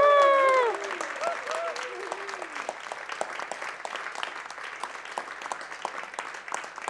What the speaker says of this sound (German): Und den allergrößten Applaus für das Orga-Team.